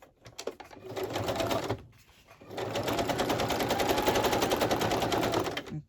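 Sewing machine stitching through altered packaging to make an envelope, running in two rapid mechanical bursts with a short pause between, steady needle clatter close up and fairly loud, with no talking.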